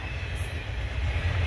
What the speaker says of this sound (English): Two trains.